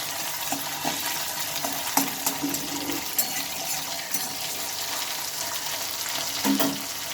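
Tomato and green chili fry and are stirred in oil for a hilsa fish dish, giving a continuous sizzle with scattered scraping and clinking of a utensil against the pan.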